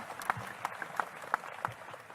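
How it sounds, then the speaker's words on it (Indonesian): At an Indonesian Independence Day community gathering in Kediri, an audience gives a few rhythmic claps in an evenly spaced beat, fairly faint against the room's background. "Tepuk tangan buat Kediri."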